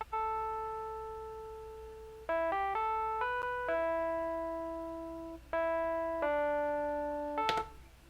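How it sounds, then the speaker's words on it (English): Classic electric piano from the Lounge Lizard instrument plays a slow sequence of sustained bell-like chords, each decaying, at a moderate level in a beat being played back, with no voices. "I chose classic electric piano."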